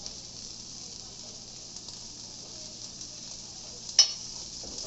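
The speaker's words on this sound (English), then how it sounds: "I'm going to be adding about half a tablespoon of, this is Sichuan chilies with oil." Sichuan chili oil sizzles in a pan with sliced nopales cactus, a steady soft frying hiss with one brief sharper crackle near the end and no voices.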